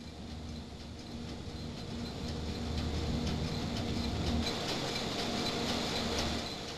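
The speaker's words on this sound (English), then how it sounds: "A worm screw, rather like a domestic mincer, presses the hot meal in a slotted cylinder so that the oil is continuously extracted." A worm screw press in a 1940s Nigerian nut oil factory presses hot meal through a slotted cylinder, giving a continuous, moderately loud mechanical rumble and clatter that swells slightly midway.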